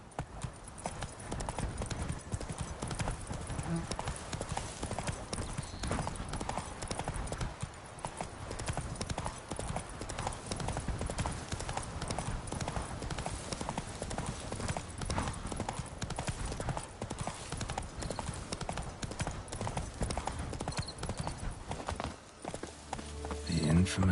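Horse hooves clip-clop in a steady riding rhythm in The Witcher 3, with continuous close hoofbeats on the ground that last throughout and end with a brief settling at the close.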